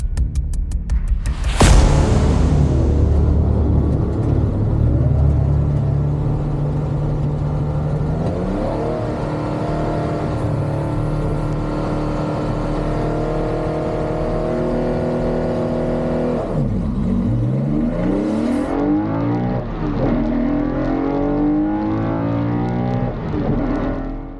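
Porsche 993, 964 and other Porsche race cars launching from a race start at Snetterton, a loud dense roar of many engines revving hard and shifting up together, staying loud and close throughout with no talking.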